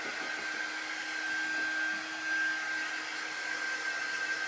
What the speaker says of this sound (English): This is just one of our air dryers. And it just helps speed up the drying process.